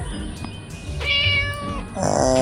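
A cat meows in the video game Scary Teacher, short repeated mews over game background sounds and music, fairly close and clear.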